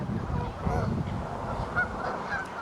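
A goose honks repeatedly at close range while birds are being fed outdoors, the calls rough and steady over a low, busy background.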